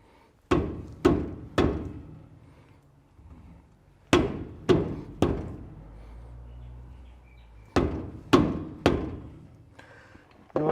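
Hammer blows strike the rear axle bearing of a Toyota Hilux in three groups of three sharp, ringing metallic whacks, loud and close, separated by brief quiet gaps.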